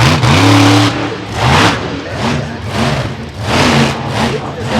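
Monster truck engine revving at an outdoor show at The Buck, loud and close, rising and falling in repeated surges with crowd noise underneath.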